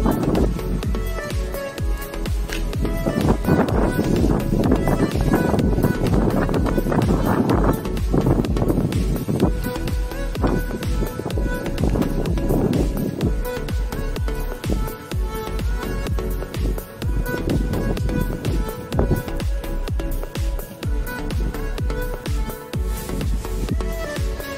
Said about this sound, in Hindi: थोड़ी कम हो गई है, जितनी तेज हवा चल रही थी।